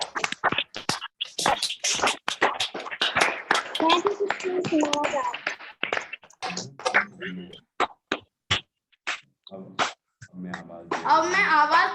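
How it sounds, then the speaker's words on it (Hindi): Scattered hand claps ring out in short bursts, then a voice speaks between a few isolated claps. "जोरदार तालियां बजाइए।"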